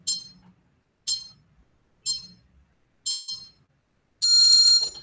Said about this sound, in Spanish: el último pitido suena más tiempo